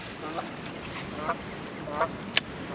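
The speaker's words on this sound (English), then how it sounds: "there's a goose in there" A goose on a small island lets out a few short, faint honks spaced over a couple of seconds, heard from a kayak over steady water and wind noise.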